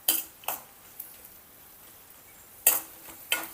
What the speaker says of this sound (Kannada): ಚೆಂದಾಗೆ ನೋಡ್ರಿ ಲೈಟಾಗೆ ಫ್ರೈ ಮಾಡ್ಕೊಳತ್ತೇನೆ